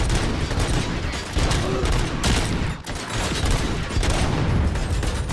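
ED-209 enforcement robot opening fire in Robocop: Rogue City, a loud sustained stream of rapid automatic gunfire with dense overlapping shots and a brief break near the middle, close and continuous throughout.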